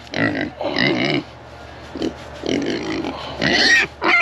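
A pig grunts and snorts close by in several rough bursts with short pauses between them, and there is no clear speech.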